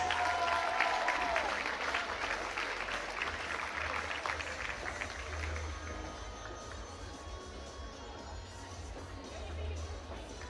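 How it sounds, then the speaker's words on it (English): A crowd in a gym at a college basketball game applauds sophomores, broad clapping and cheering that starts fuller and gradually fades, with a low hum of the arena underneath. "one more round of applause for your sophomores"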